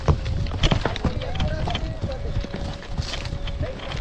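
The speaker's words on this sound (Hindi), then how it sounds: "चल मेरे घोड़े, टिक टिक टिक।" Horse hooves clip-clop in a quick, uneven rhythm during a ride in Ooty, close and steady throughout, with a rider's voice and the creak and jostle of riding mixed in.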